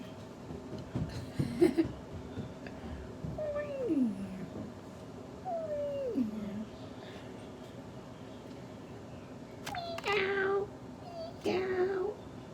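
A domestic cat meows several times indoors, drawn-out wavering cries spaced across the stretch with quiet pauses between, some louder and closer near the end, alongside faint household noise.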